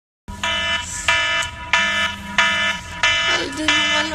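A morning alarm beeps in a steady repeating pattern of loud, harsh electronic bursts at even intervals, with a brief voice near the end.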